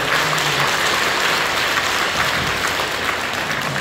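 A church congregation at a Korean worship service applauds together, a dense, even clapping that stays loud and constant throughout without any speech.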